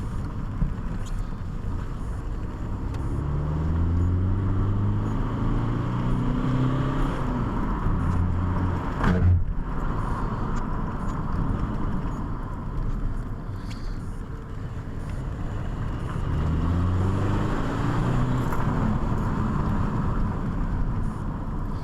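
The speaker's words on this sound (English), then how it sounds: "I hope that you heard a little bit of noise from the exhaust." Exhaust drone from a Vauxhall Insignia with a DPF-back straight pipe while driving, a steady low rumble that rises and falls with gear changes under road and wind noise, with no one talking.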